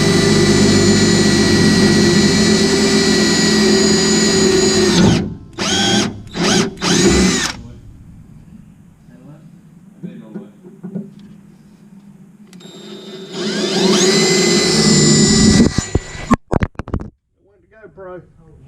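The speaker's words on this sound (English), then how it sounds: "anytime you're drilling with metal, you always want to start with a pilot hole" A power drill bores pilot holes into metal on a Jeep Gladiator, a loud sustained whine that stops, sputters in short bursts, then resumes for a second long run before cutting out, with a voice speaking during the pause.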